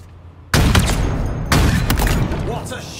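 Weapon shots in the Halo Infinite video game: two loud, heavy blasts about a second apart, each with a booming tail, amid game noise.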